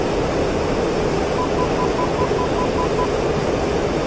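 Constant roar of an aircraft engine in the DCS World flight simulator, a loud, steady broadband rush in the cockpit with a faint tone beeping briefly in the middle.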